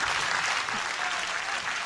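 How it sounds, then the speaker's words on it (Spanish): A dense wash of crowd applause plays as a sound effect on a community TV program, continuous and even throughout, with no gaps or individual claps standing out. "Póngame el aplauso del día"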